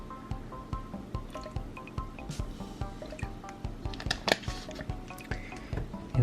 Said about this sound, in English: I'm just gonna add some water I have in a water bottle.